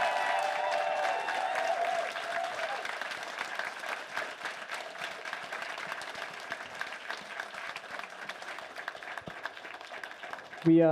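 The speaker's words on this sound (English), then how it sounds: "give the biggest, loudest round of applause to our hotel staff" Convention audience at a closing ceremony applauding the hotel staff, crowd clapping that builds and continues with cheering, while a voice talks over it and a loud burst hits at the end.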